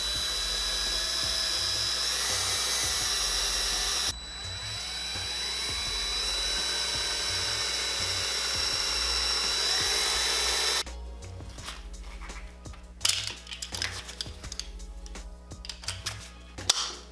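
A power drill bores out seized handlebar bolt heads on a Yamaha R6 sportbike in a steady high whine. The whine cuts out partway, and sparse clicks and clatter of metal parts follow.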